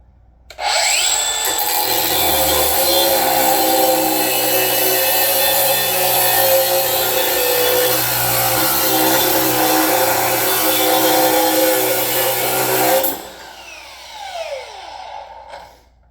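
A large battery-powered DeWalt Flexvolt grinder runs at full speed for about twelve seconds with a loud, steady whine, then spins down as it winds to a stop.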